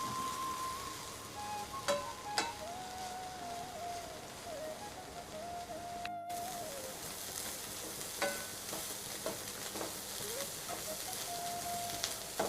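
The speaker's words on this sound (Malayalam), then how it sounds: "ഇതൊന്ന് കളറ് മാറി വരുന്നവരെ ഒന്ന് ഇതിനെ ഫ്രൈ ചെയ്തെടുക്കാം." Dried prawns fry in a pan for a pickle. A dense, continuous sizzle and crackle runs throughout, with occasional scraping stirs and clinks of a utensil against the pan. Nearby, moderately loud and with no talking.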